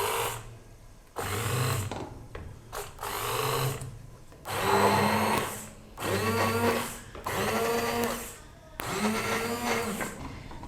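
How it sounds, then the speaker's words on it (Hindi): A hand blender grinds fenugreek and spinach saag in repeated bursts of a few seconds each, whirring up and easing off, with short pauses between, and no talking. "मैं यहाँ पर हैंड ब्लेंडर यूज़ कर रही हूँ। इसकी मदद से आपने इसको ग्राइंड कर लेना है"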